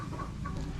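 A Boston Gold broodcock chicken clucks in a short, steady run of low, close calls from a backyard flock, with no talk over it.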